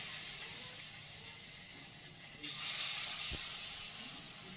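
Cauliflower fritters dropped one by one into hot oil in a village kitchen, giving a steady hiss with a louder sizzling burst near the middle and another shortly after, with no talking.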